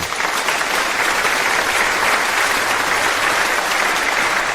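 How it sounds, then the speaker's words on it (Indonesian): An audience applauds a grandfather named Chen as he walks onto the stage, a dense and loud burst of clapping that holds steady without any talk. "Sekarang mari kita sambut dengan tepuk tangan meriah kakek Chen naik ke panggung"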